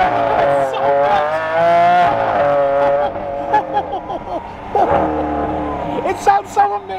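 A prized custom collector car, its engine running on PRIME drink in place of motor oil, revs up and settles in repeated swells, the tone rising and falling as it drives off, loud and close with tire noise near the end.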